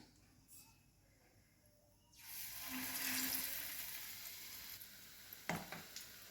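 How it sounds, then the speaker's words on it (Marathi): Batter-coated boiled eggs dropped into hot oil for egg bhaji burst into a loud, steady sizzle and bubbling frying noise after a quiet start, with a few clinks of a utensil near the end. "आणि आता तेलात सोडायचं बघा"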